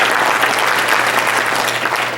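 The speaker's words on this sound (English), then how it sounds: "Let's give them a round of applause." A banquet crowd at a gala dinner in an event hall claps for the staff, a loud, dense and even burst of applause sustained throughout, with a faint steady low hum underneath.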